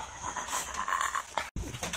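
Dog panting in quick, close breaths that run almost without pause through the short clip, with no speech.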